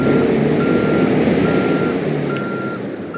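A truck backing a trailer in American Truck Simulator gives steady, regularly spaced reversing beeps over a loud, constant diesel engine rumble.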